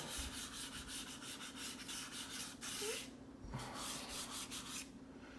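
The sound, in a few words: fingers rubbing and blending a charcoal drawing on paper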